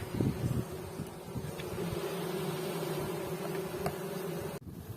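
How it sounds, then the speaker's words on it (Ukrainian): Dense, steady buzzing of many bees around an aggressive hive at an apiary, a continuous drone close to the listener with no talk, cutting off abruptly near the end. "Є вулик все ж таки агресивний. Агресивно себе веде дуже"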